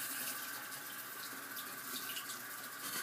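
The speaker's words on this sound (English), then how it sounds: "I'm just going to turn the water on" Water runs steadily from a sink tap as a constant close hiss and splash with no pauses, no voices.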